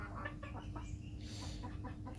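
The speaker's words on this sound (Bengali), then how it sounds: "এই যে খাঁচার মধ্যে যে মুরগিগুলো দেখতে পাচ্ছেন এগুলো হচ্ছে মূলত ফাউমি ফাউমি আর হচ্ছে টাইগার মুরগি" Fayoumi and Tiger chickens, two to three months old, cluck in a rooftop cage: soft, scattered clucks and short calls repeat quietly and close by over a low background hum.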